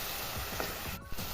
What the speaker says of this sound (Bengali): এবার আমি এর মধ্যে দুটো টমেটো পেস্ট বানিয়ে রেখেছি, ওটা দিয়ে দিব। ভালো করে মশলার সাথে কষিয়ে নেব